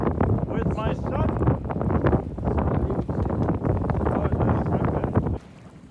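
Strong wind buffeting the microphone aboard a sailboat heading out toward Volendam in a 5-6 Beaufort breeze, a steady loud roar with gusty swells that drops away sharply near the end.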